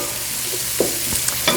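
Onions frying in melted butter in a pan, a low steady sizzle with a few soft scrapes and stirring clicks as they are moved around, fairly quiet and close, no talking.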